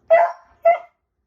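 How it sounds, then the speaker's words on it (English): A beagle barks twice at a rabbit in the front yard, two sharp, fairly loud barks about half a second apart, with silence after. "She's a beagle and she's gonna bark at it."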